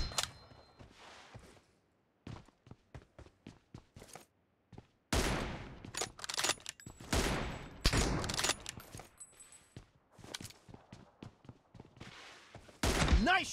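Gunshots in a 1v1 shooting video game with the M24 rifle, a series of sharp separate shots and clusters spread across the clip, some loud and some quieter, over mostly quiet gaps without talk.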